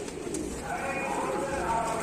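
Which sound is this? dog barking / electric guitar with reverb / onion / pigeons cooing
pigeons cooing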